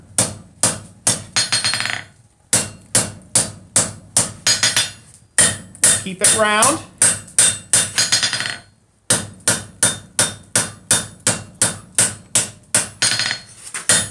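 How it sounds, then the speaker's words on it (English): A hammer forges hot steel on an anvil face while a bottle opener is shaped, delivering rapid, loud, ringing strikes in quick bursts separated by short pauses, with a voice speaking briefly between blows. "we're going to just pull up as we hammer"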